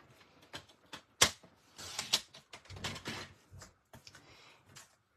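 A paper trimmer slices a half sheet of card: a scatter of soft sliding scrapes and clicks, one sharp snap near the start, then a longer rasping pass of the blade through the card, close and fairly quiet.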